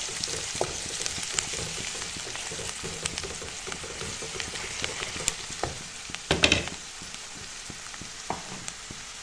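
Ground chilli, coriander and cumin powders fry in hot oil for a chicken dish while a spoon stirs them, giving a continuous sizzle broken by frequent scraping clicks and one louder clatter near the end, with no talking.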